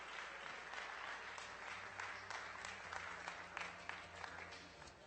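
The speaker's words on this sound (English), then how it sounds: "they deserve a big round of applause" An audience applauds volunteers at a barista competition, a steady round of clapping with a few louder claps standing out over a low background hum.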